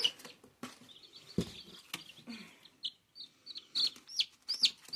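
A hen clucks close by in short, irregular calls and chirps, scattered across a few seconds with brief quiet gaps between them.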